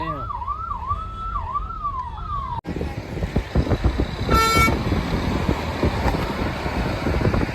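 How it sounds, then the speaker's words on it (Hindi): An ambulance siren wails in a rising and falling pattern near a roadside eatery on a road trip home from Katra, then cuts off into busy traffic noise with a brief horn. "एम्बुलेंस"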